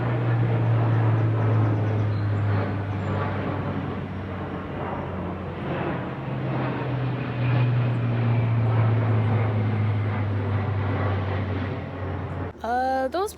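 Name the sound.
low-flying propeller airplanes passing overhead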